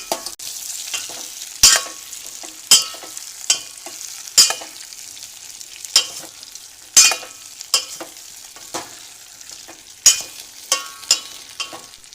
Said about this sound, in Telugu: సెమిగా ఉడికించిన కందగడ్డ ముక్కల్ని కూడా వేసుకొని కాస్త అల్లం తురుము